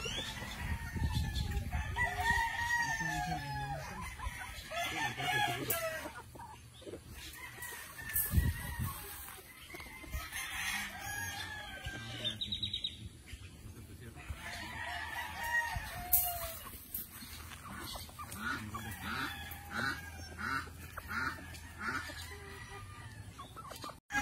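Golden Hatch gamecocks crow loudly and repeatedly at close range while others cluck throughout, with overlapping calls and some faint background clatter.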